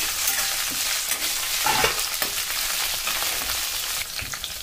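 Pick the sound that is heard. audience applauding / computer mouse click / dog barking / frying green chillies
frying green chillies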